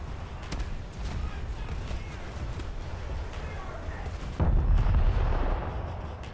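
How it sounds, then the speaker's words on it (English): Heavy cruiser USS New Orleans firing its guns over an island during a naval battle game, sustained booming rumble with a louder close salvo near the end. "Sneaking those shots over the island"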